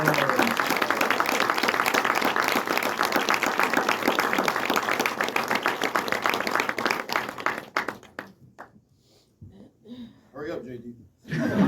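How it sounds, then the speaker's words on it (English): A panel audience applauds director J.D. Dillard with dense, loud clapping and some laughter for about eight seconds, then the clapping fades into scattered claps, chuckles and a few voices. "one more round of applause"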